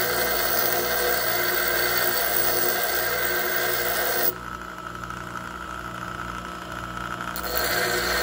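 A grinding wheel grinds the point of a drill bit flat in a steady, loud, continuous whine. Partway through, the high hiss drops off for a few seconds as the bit comes off the wheel, then returns.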